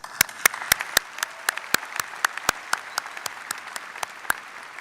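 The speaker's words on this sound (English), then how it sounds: "A round of applause." A graduation crowd at a university commencement claps in a rhythmic, evenly spaced pattern, sharp distinct claps ringing out over a softer bed of scattered applause in a large hall.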